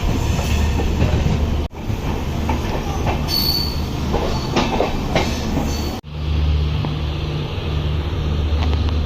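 Special express train on 3 AC economy coaches arriving at Coimbatore Junction: continuous loud rumble of wheels and carriages with rhythmic clatter and occasional squeals, close and alone.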